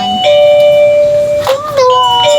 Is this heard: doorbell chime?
yes